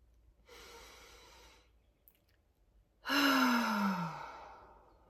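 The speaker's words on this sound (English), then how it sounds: "So deep breath in." A deep breath drawn in during a guided breathing exercise, then a louder, longer exhale with a falling sigh-like tone, both close and alone with no talk.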